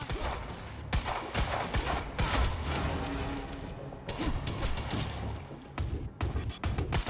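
An SMG fires in the video game Quantum Break, with loud, close, rapid automatic bursts, brief pauses between volleys and heavy crashing impacts, and no talking heard.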